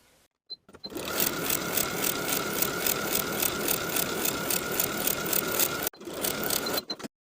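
A sewing machine top stitches along the folded waistband of linen shorts, a steady rapid whirring run of stitches lasting about five seconds, briefly pausing and restarting near the end.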